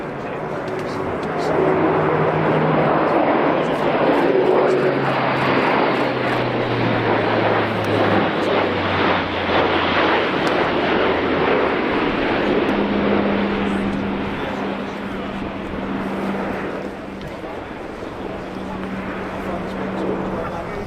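An Airbus A400M Atlas military transport of the German Air Force flies a display at RIAT 2025, its propeller-engine drone rising and falling at a distance under a commentator's continuous talk.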